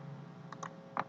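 Several soft keystrokes sound on a computer keyboard while data is entered into a point-of-sale and inventory program, faint and close in a quiet room with low hum.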